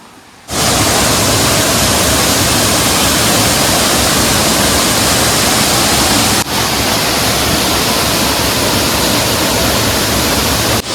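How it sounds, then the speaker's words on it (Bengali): Dharagiri waterfall near Ghatsila in monsoon flow gives a loud, steady roar of rushing water that starts abruptly and continues unbroken, with only a momentary dip partway through and no voices. "পেছনে সেই ধারাগিরি ওয়াটারফলস এখন বইছে"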